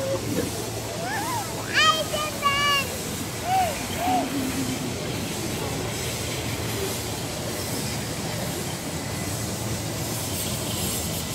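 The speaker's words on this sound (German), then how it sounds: "dann schauen wir jetzt mal, wie der Zug einfährt." A train pulls in during a Western train-robbery stage show at the Elspe Festival, a steady rolling rumble with a few high whistling squeals early on, crowd noise around it.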